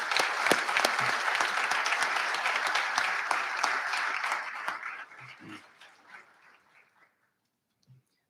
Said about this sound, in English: Please can we give them all a round of applause.